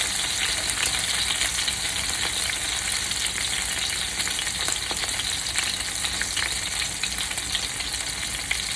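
Seekh kebabs fry in a pan with a dense, steady sizzle and crackle, close and continuous, with small pops scattered through it and no talking.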